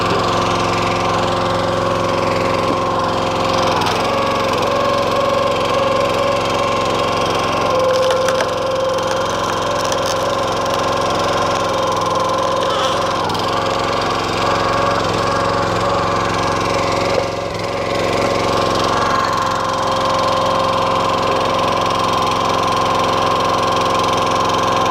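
A petrol engine drives a hydraulic log splitter, running at a loud, steady drone with a constant hum for the whole stretch. Faint creaks and knocks come from wood splitting underneath.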